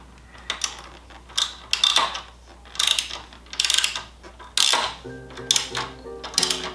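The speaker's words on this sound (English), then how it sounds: "We'll take our wrench right here, and we'll just start tying this down here." A wrench ratchets in repeated close bursts of clicking while tightening down a plastic mid-frame air deflector on a 2021 Harley-Davidson Road Glide, with short pauses between strokes.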